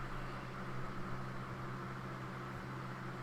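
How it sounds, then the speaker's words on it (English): A big electric fan running in the background of a hot upstairs room, a faint, steady whooshing hum with a low drone beneath, constant and unvarying throughout. "I've got a big old fan in the background and a smaller fan on the table"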